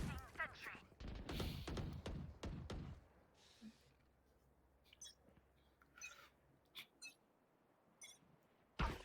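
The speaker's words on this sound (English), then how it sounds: "Rifle rounds coming in." Rifle gunfire in a Rainbow Six Siege esports match: a dense rapid burst of shots at the start, then scattered single cracks and knocks spaced apart, with commentators talking over it.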